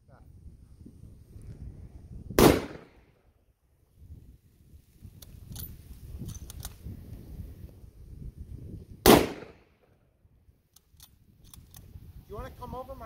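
Two loud, sharp rifle shots ring out several seconds apart outdoors, aimed at a dead tree, with quieter rustling, handling noise and low murmured talk in between.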